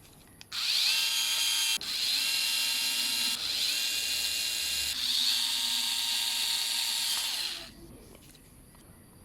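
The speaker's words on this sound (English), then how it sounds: "just screw it manually first before you can use the power screwdriver" Power screwdriver driving screws into a Ryobi RLT254CDSO string trimmer carburetor during a rebuild, three loud sustained whirring bursts with brief pauses between them, close up, then stopping.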